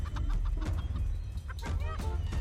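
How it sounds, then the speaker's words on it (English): A chicken clucking in short bursts amid a noisy background, with brief higher squawks near the end, moderately close. "I hear you, Mr. Chicken Tender."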